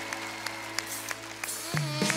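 Audience applause at a Lithuanian televised singing battle show, a short burst of clapping rising near the end over a low steady hum, fairly faint and without voices.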